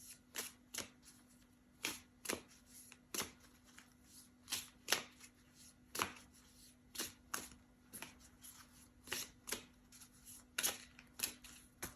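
Cards are shuffled repeatedly nearby in quick, crisp riffles, a steady stream of sharp flicks with a quiet, low hum underneath.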